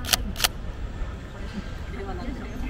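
Two quick camera shutter clicks, crisp and close, as photos are taken outdoors on a very hot day, over a low background rumble.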